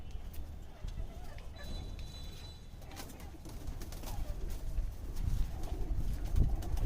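Soft pigeon coos sound faintly amid a busy background with scattered clicks and shuffling, growing a little louder toward the end.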